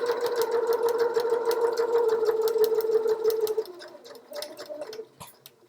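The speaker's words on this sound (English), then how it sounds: "then I can continue sewing upwards towards the shoulder line" Sewing machine stitching the neckline of medical scrubs, a steady, loud, rapid whirring run of stitches for over three seconds, then slowing into shorter, quieter bursts.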